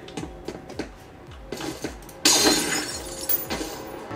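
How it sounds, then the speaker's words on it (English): Glass shatters in a video game, heard through a Panasonic Soundslayer PC soundbar: a loud crash bursts out after a run of sharp rhythmic ticks and thuds, and scattered tinkling fragments follow. "you can hear the glass breaking"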